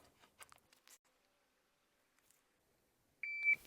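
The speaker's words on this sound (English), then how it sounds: "So let's go ahead, put the timer on." An electronic shot timer at a pistol range gives a loud double beep near the end, after a stretch of near silence and a few faint handling sounds.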